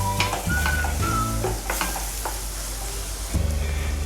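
Ground paste sizzling and frying in hot oil as it is stirred for a ragi dish, with a steady close crackle and occasional scrape of the spoon against the pan throughout.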